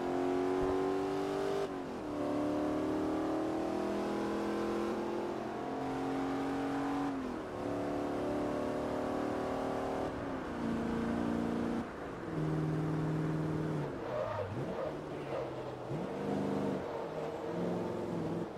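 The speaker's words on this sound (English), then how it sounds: "I love that this car can literally be used to cruise along a highway at idle speed." A Firebird Trans Am racing in Forza Motorsport 3 drones loudly and continuously, its engine note climbing through each gear, dropping sharply at every shift, then rising again, with no voices over it.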